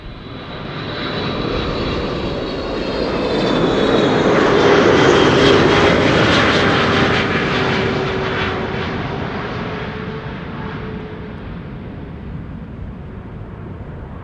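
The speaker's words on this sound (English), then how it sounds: "there should be a Dreamliner 787-10 somewhere behind it, arriving from New York, JFK." A Boeing 787-10 Dreamliner arrives at Amsterdam Schiphol from New York JFK. Its broad engine roar swells as it nears, peaks loudly overhead, then slowly fades into a long, steady rumble.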